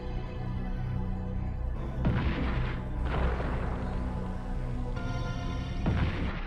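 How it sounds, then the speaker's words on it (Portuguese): Booming RPG rocket blasts and gunfire in the PlayStation game Duke Nukem: Time To Kill, several loud explosive bursts over a rumbling game soundtrack, without talk. "Aqui merece um tiro de RPG."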